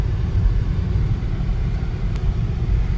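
A Honda Accord, just fitted with a replacement alternator, rolls along a neighborhood street on a test drive, heard from inside as a steady low engine and road rumble with no talking.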